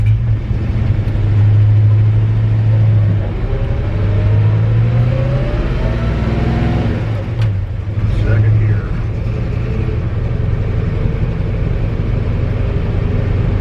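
A 1963 Chevy C30 truck creeps along in first gear, its engine a steady, loud, low rumble close by with a slight rise and fall in revs, under someone talking.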